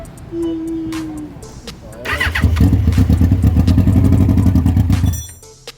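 A carbureted Yamaha R1 sport bike with a replaced CDI and a carburetor needing work cranks after a few seconds of talk, catches and runs at a loud, steady idle that will not rev, then cuts out near the end.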